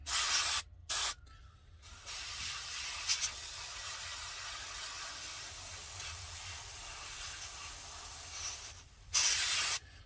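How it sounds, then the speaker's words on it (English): Aerosol spray paint hissing onto a model airplane engine in a long continuous burst, preceded and followed by short sprays, close and steady. "So now I'm going to spray the engine."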